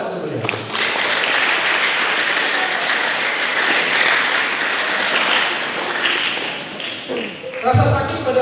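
Sustained applause from an audience at a teachers' farewell ceremony, steady and dense for most of the clip, with voices mixed in and a brief shift near the end.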